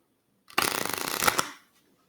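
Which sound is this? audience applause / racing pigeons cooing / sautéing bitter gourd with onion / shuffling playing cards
shuffling playing cards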